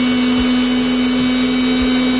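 A 6V Johnson RS-540 DC motor is driven at full speed on a speed controller. It gives a loud, steady high-pitched whine over a constant hum, with no talking.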